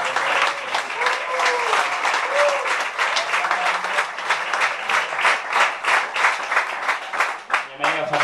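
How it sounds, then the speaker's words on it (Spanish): Loud, sustained applause from an audience welcoming triathlete Fernando Alarza onstage, with individual claps forming a steady rhythmic patter and a few voices audible beneath it for about eight seconds. "ese fortísimo aplauso para don Fernando Alarza"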